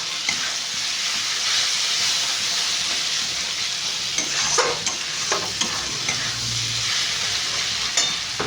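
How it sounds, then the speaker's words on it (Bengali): Chopped tomato and masala fry and get stirred in a pan for singara filling, a steady sizzle with scraping spoon strokes and clinks near the pan, no talking. "এই কষতে কষতেই এখানে আমি অল্প করে টমেটো দিয়ে দেবো।"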